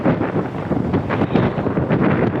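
Steady wind buffets the microphone outdoors, a loud continuous rumble and roar that fills the whole stretch with no voices.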